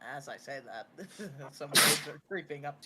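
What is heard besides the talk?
sneeze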